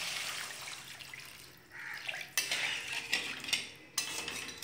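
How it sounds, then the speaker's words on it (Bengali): Water poured into a pan of fish curry with potato and eggplant, a splashing rush with clinks of a utensil against the pan, then a few sharp metallic taps, no talking. "এই জল দিয়ে দিলাম"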